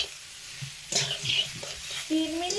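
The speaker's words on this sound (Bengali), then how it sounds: "সেই একই তেলে তো বেগুন ভাজছি" Eggplant fries in hot oil left over from frying potatoes. Soft sizzling is broken by brief stirring scrapes, with a faint voice underneath.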